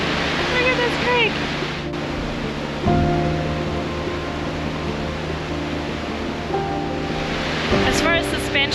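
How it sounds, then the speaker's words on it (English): Creek water rushing steadily beneath a suspension bridge in Nevada City, California, a constant broadband flow with bird chirps and brief thumps and tones over it. "Look at this creek."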